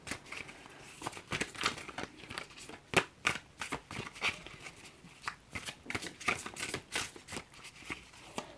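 Tarot cards are shuffled and handled up close, with soft riffling flutters and papery slaps in uneven bursts at low volume and no clear speech.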